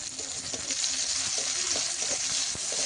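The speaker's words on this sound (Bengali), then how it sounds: "পেঁয়াজটা একটু ভাজা ভাজা হয়ে আসলে দিয়ে দেবো পাঁচফোড়ন" Chopped onion and panch phoron sizzle in oil reddened from frying fish. A steady, close hiss of frying runs throughout, broken by soft clicks and scrapes of stirring.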